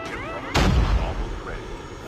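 In Call of Duty, an enemy fires an FHJ launcher: a single heavy, booming blast that cuts in sharply, rumbles deep and fades over a second above a steady background hum.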